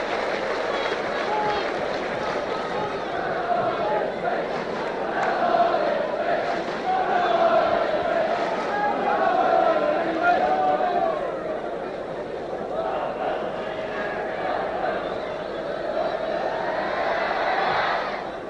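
Football crowd roaring and cheering at Ipswich Town versus Tottenham Hotspur in 1976, a steady dense wash of many voices swelling in waves around the middle and rising again near the end, with a commentator talking over it.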